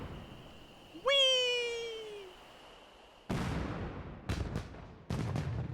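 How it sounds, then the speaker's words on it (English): Fireworks in the Secret of Monkey Island game: a whistling rocket rises and fades, then several sharp crackling bursts go off one after another at moderate loudness. "look at the fireworks"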